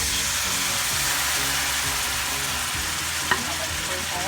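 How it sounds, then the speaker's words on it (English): Shrimp sizzle steadily in melted butter and extra virgin olive oil in a hot pan, a dense continuous frying hiss with occasional stirring scrapes and a single sharp clink. "When my butter melts, next I'm going to add my shrimp."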